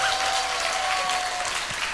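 A church congregation breaks into warm, sustained applause at a Sunday afternoon service, a full even roar of many hands with a faint tonal whistle threading briefly through it.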